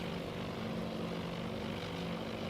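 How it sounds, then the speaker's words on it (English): Propeller-driven torpedo bombers diving in Task Force Admiral, a steady loud droning engine roar with a constant hum and no break. "I assume these are torpedo bombers now diving down toward the target"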